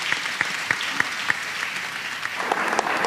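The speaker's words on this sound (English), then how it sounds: "Let's give our spiritual father a round of applause" Applause at a memorial service for a jazz legend, with scattered, evenly spaced claps standing out over a dense, moderate bed of clapping from the congregation.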